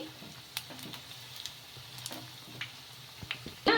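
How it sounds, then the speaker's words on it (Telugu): Semiya bondas frying in hot oil over medium-high flame, a continuous close crackling sizzle dotted with sharp pops and ticks as they are stirred and turned, with no talk. "ఆయిల్లో ఫ్రై అయిన తర్వాత తిప్పేసుకోవాలి రెండు వైపులా ఇలా కదుపుకుంటూ ఫ్రై చేసేసుకోవాలి"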